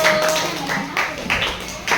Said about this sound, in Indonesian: tepuk tangan untuk kelompok Bhinneka Tunggal Ika